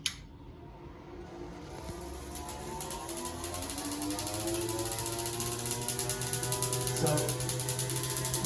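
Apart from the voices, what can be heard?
Van de Graaff corona discharge sparking to a screwdriver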